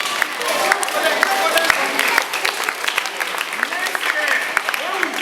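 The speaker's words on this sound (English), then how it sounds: "Let's clap for them." A crowd of students at a peace campaign event claps together in a loud, sustained round of applause, with scattered shouts and voices rising over the clapping.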